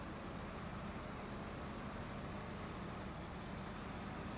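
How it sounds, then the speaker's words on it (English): Truck engine idling in the video game SnowRunner, a steady faint low rumble with no change in pitch or rhythm, heard alone. "I could just turn on the engine."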